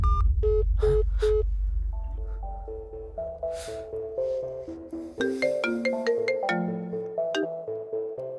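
Phone ringtone of an incoming call plays loud and close, a melodic electronic tune of repeated bright tones following a low rumbling start, with no talk over it.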